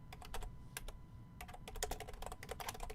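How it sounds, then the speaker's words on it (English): Fingers tap rapidly on a computer keyboard, producing irregular bursts of close, crisp key clicks with short gaps between them over a faint background hum. "I can't even type on this keyboard"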